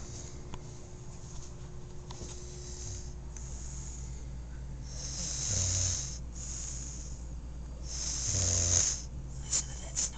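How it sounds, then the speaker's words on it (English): An unseen animal snoring at night, slow rhythmic rasping breaths repeating every second or two, with louder hissing snorts partway through, heard up close and without talk. "Listen to that snoring."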